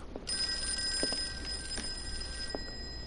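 An old telephone bell rings continuously in Call of Cthulhu, a loud, bright metallic trill that holds steady for several seconds over a low background rumble, with a few faint knocks underneath.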